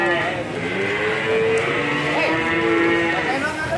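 Young bull, about 15 months old, at a cattle market gives loud, close, drawn-out moos that fill the moment, with livestock-yard noise and a voice underneath.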